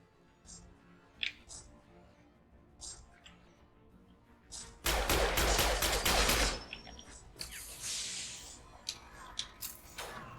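Rifle gunfire in Mass Effect 2, a loud sustained burst of rapid shots in the middle, then scattered bursts and single shots, with quieter clicks and mechanisms between.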